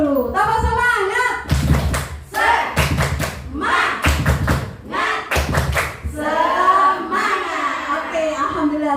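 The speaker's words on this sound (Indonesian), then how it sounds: "kita mulai dari tepuk dulu" Group of women teachers doing a rhythmic clapping ice-breaker, loud bursts of quick claps in set patterns alternating with sung or chanted voices, the claps landing in tight rhythmic clusters close by.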